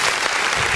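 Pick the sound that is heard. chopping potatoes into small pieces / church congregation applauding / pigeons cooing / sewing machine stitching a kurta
church congregation applauding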